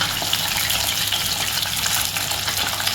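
Bombil, or Bombay duck, fish fry in a pan of oil with a dense, continuous sizzling hiss, close and steady, with no voices.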